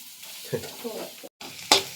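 Onions frying in a pan give a close, steady sizzle broken by stirring scrapes, a brief silent gap, then a sharp bright clatter.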